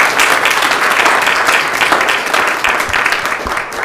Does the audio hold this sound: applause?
yes